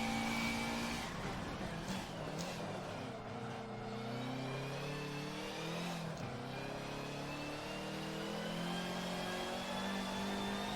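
A race car engine on a track whines and climbs in pitch as the car accelerates out of a corner, with rising harmonics that shift through gear changes. It stays steady and continuous, heard from inside the car.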